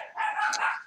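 A dog barks close by in a short double burst, the yelps loud and sharp with a brief whine-like edge, alone without talk.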